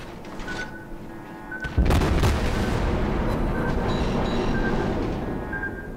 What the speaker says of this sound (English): So let's just throw those 200mm shells into him.